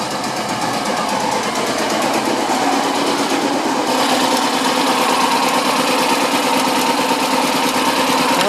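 A BMW Isetta 300's small engine runs steadily and loud and close, a busy even chatter that swells slightly as it is revved, with no talk.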